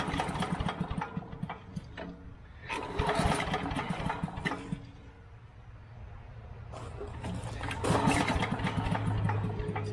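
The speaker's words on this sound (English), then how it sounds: "Let's see if we can get this thing started." A small engine on a tractor-mounted leaf blower is pulled to start with the choke on, giving repeated sputtering bursts that catch and settle into a rough, close idle.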